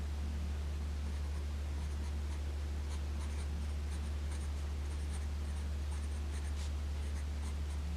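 Fine Japanese fountain pen nib scratching across paper in short strokes, a soft and close writing sound over a steady low hum.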